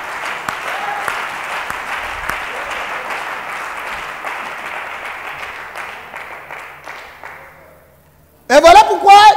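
A church congregation applauds and cheers loudly and steadily through most of the moment during a French-language sermon, the clapping fading out before a voice breaks in sharply at the end.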